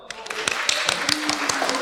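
An audience at a live series-themed bingo event at a festival gives a burst of applause for a winner, with scattered close claps for about two seconds.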